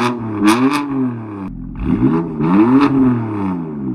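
A BMW M4 F82 Competition with an M Performance exhaust revs hard twice in sport mode, pitch sweeping up and falling back with a crackling exhaust, loud and close, with no talking.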